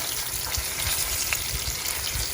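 Veal shanks sear in a hot pan, giving a steady, even sizzle and crackle with faint spitting, continuous and fairly soft throughout with no voices.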